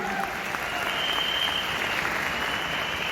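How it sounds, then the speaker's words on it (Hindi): Applause from an audience at a seminar on working without a team, a steady, somewhat distant sheet of many hands clapping that holds evenly throughout. "आप लोग तालियां बजा रहे हो"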